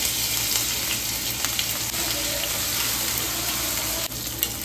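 Ginger dropped into hot oil with Bengali five-spice and a bay leaf, a steady, close, lively sizzle and crackle of frying that runs continuously with faint stirring and no talking.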